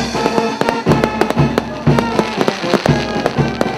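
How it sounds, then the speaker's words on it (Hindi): Fireworks crackle and pop in rapid, irregular bursts at an outdoor cultural event with an army band, loud and close with dense overlapping bangs throughout. "आतिशबाजी का आप सभी आनंद लीजिए"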